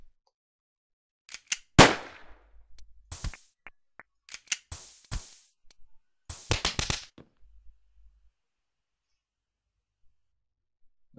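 Sharp gunshots in the stealth game Spy at Gunpoint ring out as scattered close bangs with short gaps between them, including a tight burst of rapid cracks near the middle, then silence. No one speaks.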